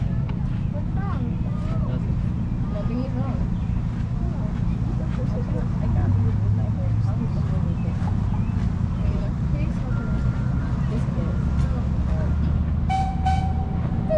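A small open train on a Houston zoo ride in Hermann Park rumbles along with a steady low drone while passengers talk over it, and a brief horn toot sounds near the end.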